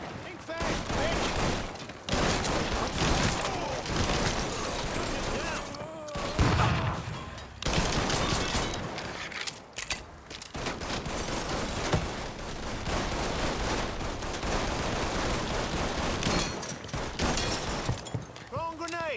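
A video game firefight: dense rapid bursts of automatic gunfire and shots crackle back and forth, loud and near, with brief lulls and shouted voices mixed into the chaos.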